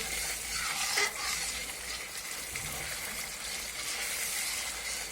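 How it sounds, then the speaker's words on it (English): Mixture for a white gravy sautéing in a pan, giving a steady close sizzle with soft stirring scrapes throughout, no voices. "We will saute it nicely."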